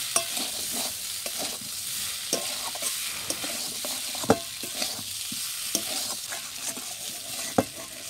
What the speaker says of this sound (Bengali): আলু আর মশলা ভালোভাবে একসাথে ভালো করে কষিয়ে নেব